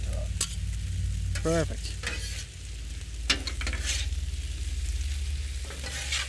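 Chicken stir fry with carrots, sauce and mint sizzling and frying on a griddle, a steady loud hiss with scraping and stirring clatter, briefly interrupted by a short spoken word.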